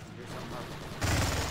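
Machine gun fire in the Stargate Galactic Conquest video game, a dense, continuous burst of rapid shots that grows louder and harsher partway through, with game voices mixed in.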